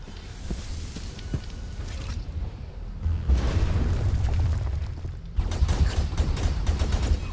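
Sweeper guns fire in the Skyforge video game, a dense stretch of rapid booming bursts and crackling gunfire that swells and drops, loud and continuous with no talk.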